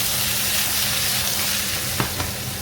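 Steady frying sizzle of potatoes in a pan with a couple of brief scraping clicks as they are stirred, close and continuous.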